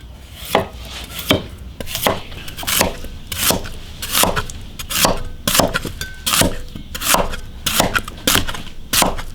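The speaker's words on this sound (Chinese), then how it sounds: "萝卜切滚刀块儿" A kitchen knife chops radish into roll-cut chunks on a cutting board, with about fifteen sharp, evenly spaced thuds close by and no talk.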